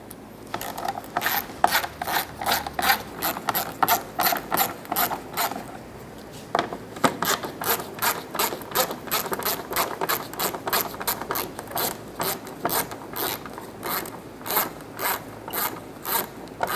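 A hand ratchet backs out 10mm bolts from the front license plate bracket of a 2007-2012 Nissan Altima, a rapid close clicking in two long runs separated by a short pause.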